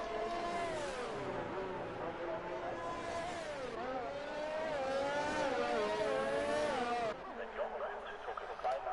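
F1 race cars in the game F1 2019 at the German Grand Prix whine with rising and falling engine pitch under steady race commentary. The engine note drops away abruptly near the end.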